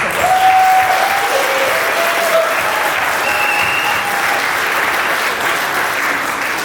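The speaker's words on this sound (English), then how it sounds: "Huge round of applause." Wedding guests break into loud, sustained applause during the reception speeches, a thick, even roar of many hands clapping close by without a break.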